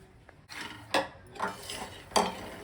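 Lotus seeds are roasted in a pan and stirred with a utensil, giving four distinct scraping, rattling strokes against the metal, separated by brief quiet gaps, close and fairly soft.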